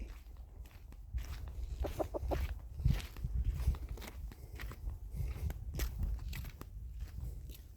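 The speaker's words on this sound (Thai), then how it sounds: "ก็ได้ยินเสียงไก่" A wild junglefowl rooster crows somewhere off at a distance, heard over nearby footsteps and rustling outdoors in the forest after rain.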